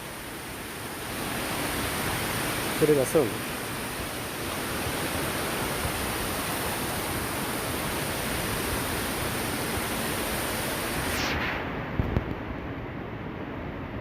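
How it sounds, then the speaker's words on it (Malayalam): Steady broadband rush of water flowing down the stepped rock face at Meenpidipara waterfall, continuous and fairly close, with a brief spoken remark near the start. "അവിടുന്ന് ആ വെള്ളം ഇങ്ങനെ ഒരു സ്റ്റെപ്പായിട്ടാണ് വെള്ളം ഇങ്ങനെ ഒഴുകിക്കൊണ്ടിരിക്കുന്നത്"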